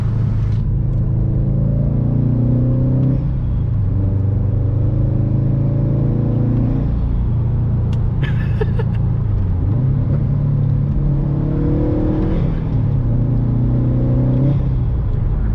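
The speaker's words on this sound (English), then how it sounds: "all day you hear the intake" Stage 1 2018 Subaru STI accelerating, heard from inside the car, with a steady loud engine and intake rumble rising and falling through gear changes, no talk.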